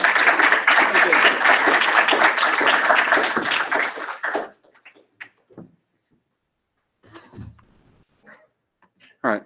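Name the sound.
audience applause after lightning talk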